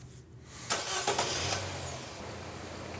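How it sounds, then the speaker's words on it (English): A car engine is cranked during an ignition-coil scope test, catching with a loud burst and then settling into a steady, close idle. "Let's go ahead and start the engine."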